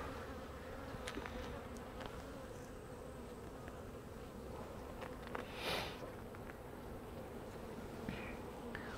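Honeybees hum steadily around an open hive in late summer, a soft continuous drone with occasional nearer individual buzzes flitting past the microphone.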